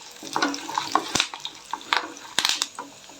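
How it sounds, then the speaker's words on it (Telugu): Cumin seeds crackle in hot oil for pepper pongal, sharp irregular pops and sizzling bursts close by, interspersed with a few louder snaps. "జీలకర్ర వేస్తే వేస్తున్నా పటపట అంటున్నట్టు"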